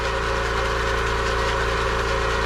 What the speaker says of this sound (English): Sorry about the noise, the compressor is on in the background.